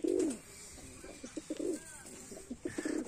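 Tumbler pigeons coo close by in a series of soft, rounded throaty phrases, with a brief louder coo at the start and a few faint chirps scattered through the quiet background.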